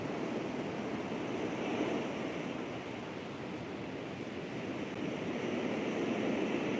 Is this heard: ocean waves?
yes